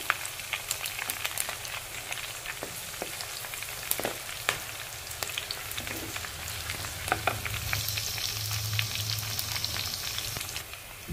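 Dried red chillies frying in hot oil for chicken fry, a dense crackling sizzle with scattered sharp pops and occasional stirring, steady and close throughout with no talking.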